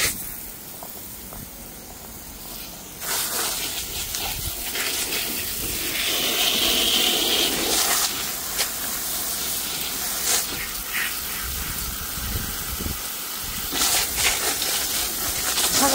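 A garden hose sprays water over vegetables, including green onions, on a hot day: a steady broadband hiss that swells from about three seconds on and wavers in intensity as the stream moves across the plants.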